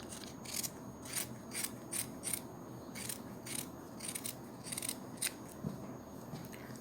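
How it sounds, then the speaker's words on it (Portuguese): Scissors snipping doll fabric close to a seam in a steady series of quick, faint cuts over a low background hum. "Vamos recortar com meio centímetro, bem rente aqui perto da costura"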